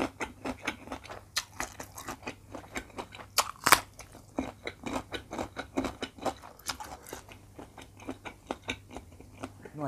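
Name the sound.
chewing spicy Thai octopus tentacle salad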